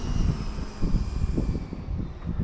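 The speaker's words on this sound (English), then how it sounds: "I'm actually gonna go ahead and taxi the length of the runway here" E-Flite Viper 90mm RC electric ducted-fan jet taxiing along a runway, a steady whirring whine with a rumbling, fluttering low end, fairly loud and continuous, outdoors with some wind.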